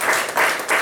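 A church congregation gives a short round of applause, close, dense clapping in three quick swells.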